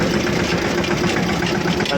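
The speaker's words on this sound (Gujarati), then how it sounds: "યાર ટ્રેક્ટરે જલ્દી જવાનું નથી" A tractor engine running close by, giving a loud, continuous low rumble that holds steady without pause.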